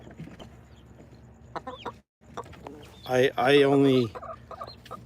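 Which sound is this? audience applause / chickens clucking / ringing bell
chickens clucking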